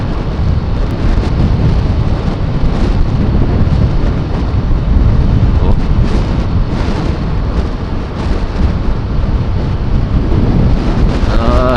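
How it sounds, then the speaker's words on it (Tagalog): Strong wind buffets a helmet microphone on a Yamaha Mio motorcycle ride, a loud continuous low roar with gusty rumbling and no clear talk. "ang lakas ng hangin ngayon"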